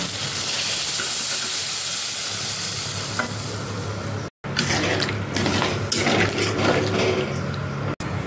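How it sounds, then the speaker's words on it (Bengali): Water poured into a hot pan of simmering jackfruit-seed curry with fish, hissing and sizzling loudly as it hits the oil, followed by bubbling and stirring after a brief break. "এবার এর মধ্যে পড়বে পরিমাণ মতো জল"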